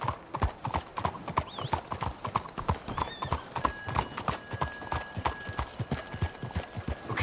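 Horse hooves clip-clop at a steady, brisk pace in the Red Dead Redemption 2 video game, with closely spaced, even hoofbeats running throughout and faint tonal sounds in the background.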